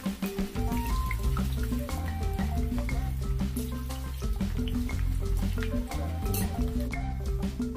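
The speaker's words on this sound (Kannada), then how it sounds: "ಇನ್ನು ಗೋಬಿ ಮಿಕ್ಸ್ ಮಾಡಿಟ್ಟಿದ್ದೀವಲ್ಲ, ಇನ್ನು ಎಣ್ಣೆಗೆ ಹಾಕಿ ಫ್ರೈ ಮಾಡಿ ನೆಕ್ಸ್ಟ್ ಪ್ರೊಸೀಜರ್ ಸ್ಟಾರ್ಟ್ ಮಾಡೋಣ" Battered cauliflower florets for gobi manchurian deep-fry in hot oil, giving a loud, steady, dense crackle and sizzle with fine popping throughout and no talking.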